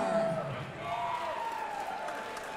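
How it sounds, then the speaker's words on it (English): Crowd applause and cheering at a Fierce Fight Series heavy-hitters fight event in Indiana, greeting fighter Guy Rednour as he is introduced, with a steady loud roar of clapping and whoops and a voice talking over it. "please give a big round of applause for Guy"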